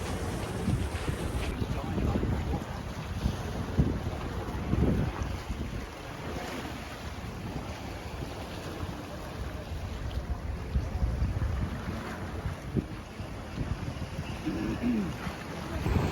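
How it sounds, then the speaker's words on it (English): Ferries and yachts on Sydney harbour water, heard as a steady outdoor wash of water, boat engine rumble and wind buffeting across the microphone, continuous and fairly loud throughout. "You've got the fast ferries and then a few yachts."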